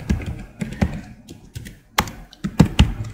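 Keystrokes tapping on a computer keyboard in short irregular bursts, with a few louder thunking key presses near the end, close and clear with no talk.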